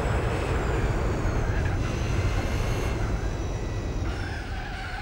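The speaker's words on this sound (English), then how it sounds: "I go broom broom in the race car" A GT3 race car in a video game roars continuously with a steady engine drone and tire noise, shifting pitch slightly as it speeds along, loud and close.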